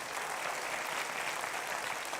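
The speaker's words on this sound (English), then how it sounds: "I think we should give a round of applause to him." A university audience gives a brief round of applause, dense steady clapping from many hands filling the room at moderate level without a break.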